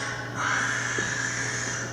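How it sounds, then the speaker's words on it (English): An owl shriek sound effect plays during a school stage production of Macbeth: one drawn-out, harsh, high cry lasting about two seconds, with no talking. "It was the owl that shrieked"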